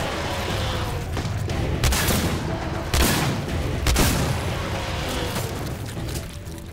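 Gunfire from a weapon in the video game Singularity: several loud, booming shots spaced about a second apart, each with a sharp onset and rumbling decay over steady game background noise.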